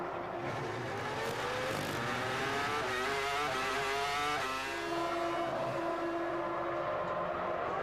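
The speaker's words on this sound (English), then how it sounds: "It is Barrichello from the race lead, diving into the pit lane now." A Ferrari Formula One car at the 2002 Canadian Grand Prix dives into the pit lane, its loud high-revving engine note sweeping and shifting pitch continuously over steady crowd and track noise.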